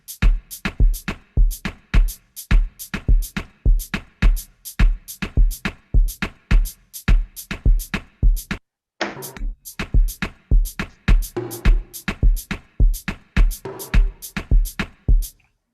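An Afrobeat drum pattern built from composite drum sounds: a steady, punchy loop of sharp hits in a repeating rhythm, broken by a brief gap partway through before the groove resumes, with no talking.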